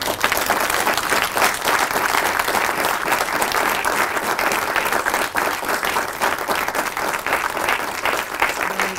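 Sustained, dense applause from an audience at a professorial inauguration, greeting the end of an inaugural lecture; loud and steady throughout with no voices.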